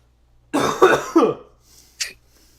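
A person coughs a few times in quick succession, close and wet-sounding, followed by a short throat-clearing rasp.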